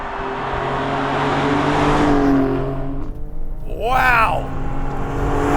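A Maserati Trofeo accelerates hard, its engine note rising and building before a sweeping, climbing roar near the end; a person exclaims briefly over it.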